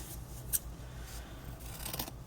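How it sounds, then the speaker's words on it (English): Scissors snip through ribbon folded at the twelve-inch mark, a few faint, brief crisp cuts spaced apart against quiet room tone with no talking. "And then I just took my scissors"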